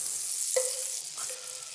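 Butter sizzles in a hot frying pan, a steady hiss throughout, broken by a couple of brief scraping or stirring touches.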